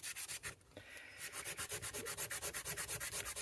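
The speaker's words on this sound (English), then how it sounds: "just seeing how much you can take off with this sort of abrasive cloth" Abrasive cloth is rubbed back and forth on the blade of a USA-made Ulster Scout knife. The close, steady strokes make a rhythmic swishing scrape, with a brief pause near the start before the quick, even rubbing resumes.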